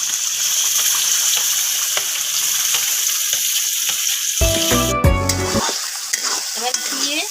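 Blended pumpkin hits hot ghee in a pan with a sudden loud hiss and crackle, then sizzles and is stirred steadily, with no voices.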